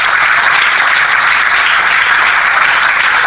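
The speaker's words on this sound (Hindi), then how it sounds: "तो तालियां बजाना घाटे का सौदा नहीं है।" A large audience at an RCM network-marketing business seminar claps loudly and continuously, a thick, even roar of many hands filling the room with no talk over it.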